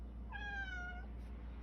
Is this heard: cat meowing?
yes